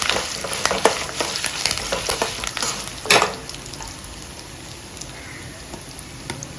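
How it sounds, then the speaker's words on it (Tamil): Spices crackle and pop in hot oil as a tempering for sesame rice, with a busy rapid spatter early on, a sharper clatter midway, then a softer sizzle that thins out toward the end. "இதை இப்போ தாளித்து போட்டு கலக்கிறத காமிக்கிறேன்."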